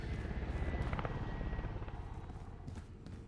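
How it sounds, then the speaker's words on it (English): Helicopter in Call of Duty Warzone, a steady rotor drone that holds loud and close, then eases slightly toward the end, with no speech over it. "Big old helicopter."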